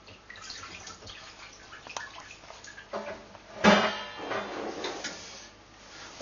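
Home-brewed beer wort is poured from a cooler into a disinfected vessel, sounding as a faint, uneven splashing and trickling with occasional louder sloshes and clunks of handling nearby.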